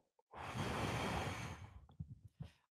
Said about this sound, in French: On va faire une respiration.